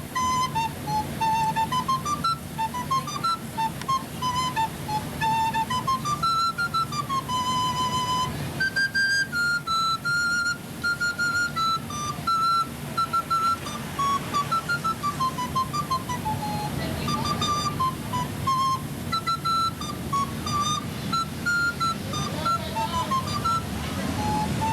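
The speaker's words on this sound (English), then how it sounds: "Oh, yes, it is a recorder." Recorder playing a melodic tune at a July 4th celebration, a clear piping line of held and stepping notes over a constant background wash of crowd or outdoor noise.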